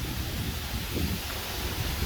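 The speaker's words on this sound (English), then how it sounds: "Oh, super windy today." Strong wind buffets the microphone at an outdoor water park in Guam beside a jacuzzi slide, a steady broadband roar and rumble with no talking.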